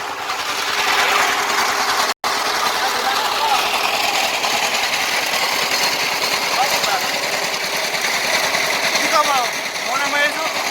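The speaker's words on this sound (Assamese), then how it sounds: "ট্ৰেক্টৰ চলাই আছে।" A tractor runs steadily while harrowing a farm field, a loud continuous rattling engine drone lasting the whole stretch with one brief dropout, and a voice is heard over it.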